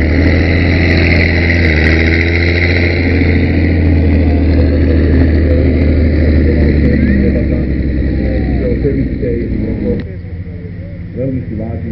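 A vehicle engine idles steadily with a constant low rumble throughout, loud and close, while a voice talks over it; the engine note drops slightly near the end.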